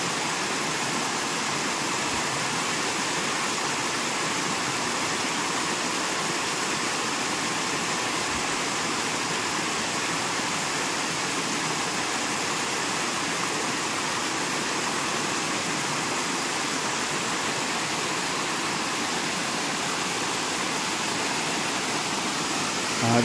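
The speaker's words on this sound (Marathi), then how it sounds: "शांत वातावरणामध्ये फक्त पाण्याचा खळखळण्याचा आवाज येतो" A stream gurgles over rocks in quiet surroundings, a steady, continuous rush of water that stays even and fairly close from start to finish, with no voices.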